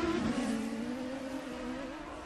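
Champ Car race cars at the Long Beach Grand Prix street circuit, engines droning loudly and steadily with a high whine that eases off slightly, no talk over it.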